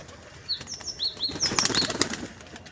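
Bursts of wing flapping from a pigeon taking off and landing nearby, with a few faint high chirps in between.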